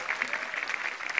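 A stand-up comedy audience breaks into brief, moderately loud applause, a dense, even patter of many hands clapping.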